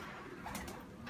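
A pet pigeon gives a soft, brief coo against a dense background hiss, faint and close.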